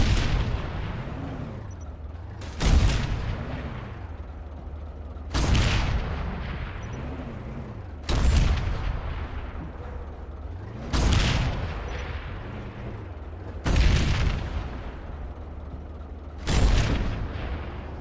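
Planetside 2 gunfire, six heavy booming shots spaced evenly about three seconds apart, each with a sharp attack and a rumbling tail over a low steady drone.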